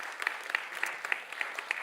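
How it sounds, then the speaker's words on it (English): An audience at a farmers' storytelling event during the Sundance Film Festival claps in a soft, even patter, faint and somewhat distant, with individual claps just discernible. "another round of applause for Lizbeth and David"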